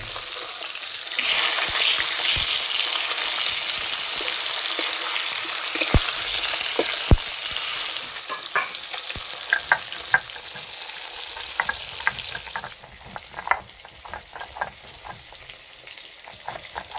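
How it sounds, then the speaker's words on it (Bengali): Katla fish sizzles steadily as it fries in oil in a pan, with a continuous crackle and occasional sharp pops and clinks of a spatula turning the pieces, close and fairly loud with no talking. "মাছ ভাজা হয়ে গেছে, এবার তুলে নেব।"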